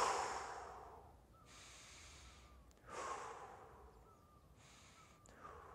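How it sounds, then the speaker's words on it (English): Faint, slow deep breaths follow one another in a very quiet room during an EFT tapping routine. Each long airy inhale or exhale swells and fades, with no talking. "I breathe 3 times deeply"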